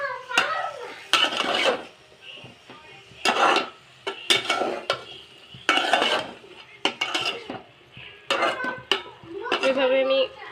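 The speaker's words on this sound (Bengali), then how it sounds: "তো আমি তরকারিটা কষাইতেছি" A metal spoon repeatedly scrapes and clanks in a pan while a rohu fish curry with cauliflower and potato is stir-fried, in irregular bursts over a soft sizzle, close and fairly loud with no talking.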